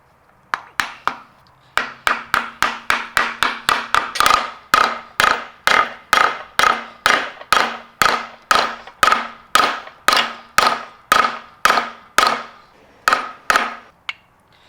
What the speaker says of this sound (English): Well, I smashed that lip with a hammer.